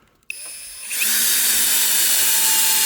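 A cordless power screwdriver spins up and drives a self-tapping screw into oak, starting after a click and then whirring loudly and steadily at close range.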